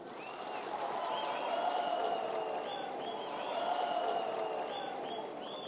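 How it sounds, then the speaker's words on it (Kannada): An audience claps for Vijayendra at a Siddharameshwara Jayanti gathering on Sankranti, sustained applause from a large crowd swelling then holding steady, with a faint voice over it. "ಪ್ರೀತಿಯ ಚಪ್ಪಾಳೆಯ ಮುಖೇನ ಧನ್ಯವಾದಗಳನ್ನ ಸಮರ್ಪಿಸೋಣ"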